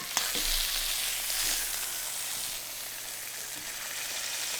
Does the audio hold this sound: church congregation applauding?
no